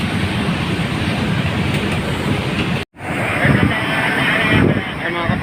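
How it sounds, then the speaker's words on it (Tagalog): Strong typhoon wind roars steadily against the microphone with a dense, rain-like hiss of heavy rain, briefly cutting out once before the storm noise resumes. "Napakalakas ng bagyo na to"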